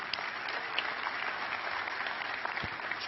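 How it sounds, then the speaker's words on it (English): Steady applause from a DataWorks Summit 2018 conference audience in San Jose, thanking the sponsors, a continuous even patter of many hands heard at a distance and fairly faint. "So, round of applause, please, for our sponsors."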